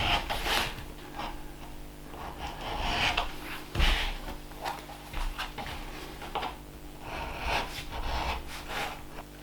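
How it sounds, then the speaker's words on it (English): A leather edge beveler trims the edges of an axe sheath in a series of short, dry scraping strokes, close and fairly quiet, with brief pauses between passes. "This time I'm gonna use the edge beveler before I fold and glue the sheath together"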